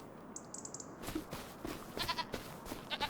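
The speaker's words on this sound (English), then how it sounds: "I'm in here checking on the goats, just making sure they're okay" Goats on a farm in the Farming Simulator 25 video game bleating in short calls, several quick wavering bleats followed by a few more, moderately loud over a quiet ambient background with no talk.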